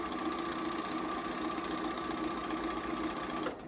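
A sewing machine runs steadily at close range while stitching gingham quilt blocks for a table runner, with a constant whirring motor hum that stops abruptly at the end.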